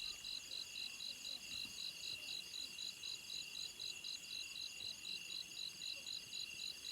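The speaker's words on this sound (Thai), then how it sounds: "เต็มแต่เสียงจิงลีด ห้องดังขนาดนะ" Crickets in a rice field at night chirp in a steady, rapid pulsing trill, loud and continuous against a quiet background, with no voices.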